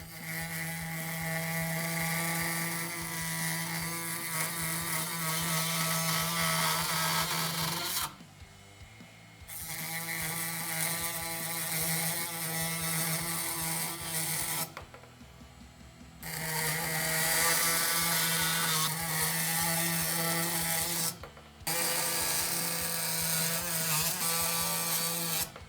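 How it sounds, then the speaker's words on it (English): A Dremel 8260 brushless rotary tool cuts through Schedule 40 PVC pipe with a loud, steady high-pitched whine. It runs in four long bursts separated by short pauses. "I just made 5 cuts through Schedule 40 PVC,"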